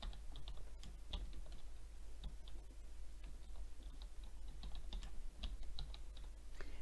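Close, faint clicking of a computer keyboard as an email address is typed, with quick irregular keystrokes tapping continuously over a low steady hum.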